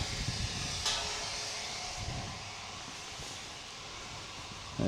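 Steady broadband roar of two gas turbines in Runcorn running in the distance, a constant airy hiss with low rumble, no voices.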